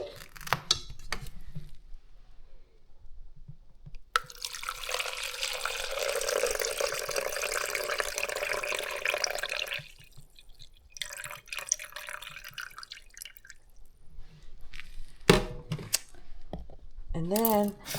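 Rice being rinsed in water in a small pot or cup near a mini rice cooker, with water pouring and splashing for several seconds, then quieter swishing and a few sharp clinks.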